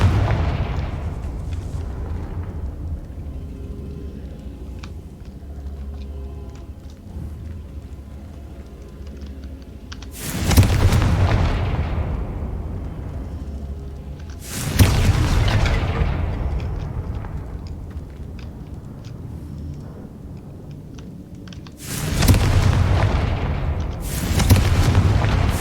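Confringo fire spells explode in Hogwarts Legacy as three loud, booming blasts spaced several seconds apart, each rumbling away slowly, with steady keyboard clicking and low game noise underneath.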